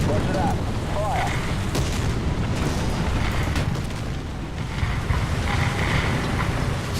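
Artillery strike explosions in the War Thunder tank game, a dense rumbling barrage of booms under constant wind-like battle noise, with a voice speaking over it.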